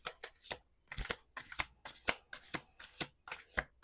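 A tarot deck shuffled by hand in a quick, steady run of crisp riffles and slaps, about a dozen sharp bursts in under four seconds, close up and without speech.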